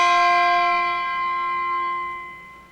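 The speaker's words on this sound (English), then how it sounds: "take the clapper and lift it and hit it against the front of the bell, creating a plucked sound." A single bright handbell tone, its clapper lifted and struck once against the front of the bell, ringing with clear sustained overtones that slowly fade over a couple of seconds, heard alone.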